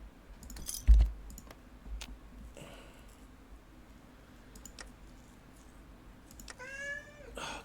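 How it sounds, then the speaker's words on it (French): A domestic cat meows near the end, a short wavering call heard alongside scattered keyboard and mouse clicks and a faint background hum, with no talking. "Le chat essaie de me dire quelque chose,"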